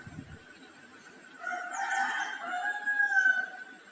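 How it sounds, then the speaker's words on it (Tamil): Hen clucking while searching for her chicks in a backyard coop, a run of drawn-out, wavering calls rising in the second half and fairly close, after a short rustle at the start. "இப்போ குஞ்சு எங்கன்னு தேடும் பாருங்க."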